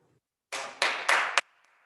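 A short burst of hand clapping from a few people in the audience at a city council meeting, close and brisk for about a second before dropping to quiet.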